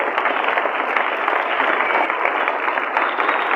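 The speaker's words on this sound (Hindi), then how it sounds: "तालियां आपकी रुकनी नहीं चाहिए" A steady wave of audience applause fills a foundation award ceremony hall, loud and close, the clapping dense and unbroken for the whole stretch.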